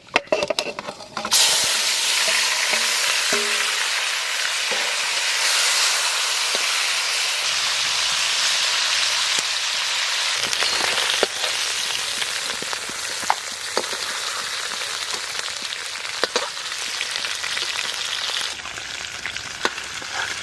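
Eel (baim) frying in hot oil gives a loud, continuous crackling sizzle that holds steady throughout, with scattered sharper pops over the hiss.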